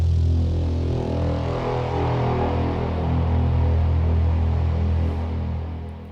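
Trailer braam effects from the Evolution Atlantica sample library build into a massive, very low, sustained brass-like roar with a gritty texture that holds steady and tails off at the end.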